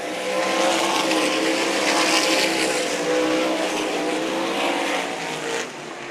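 Race cars circle the track at Meridian Speedway, a dense, loud engine roar sustained throughout, with overlapping cars blending into a continuous drone that eases briefly near the end, no voices heard.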